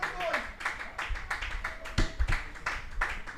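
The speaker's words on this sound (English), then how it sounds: "Applause from the Windward Islands fans for the short stay from Edmund Moranci." Scattered clapping from Windward Islands supporters at an under-17 cricket match against the Leewards, after a batter's dismissal; sparse, distant claps heard under a commentator's voice.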